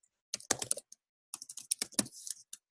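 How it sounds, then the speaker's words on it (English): Two quick bursts of crisp keystrokes on a computer keyboard, close and clear with a short silent gap between them, while typing up a restaurant menu in InDesign. "It'd probably just be easier to type it out."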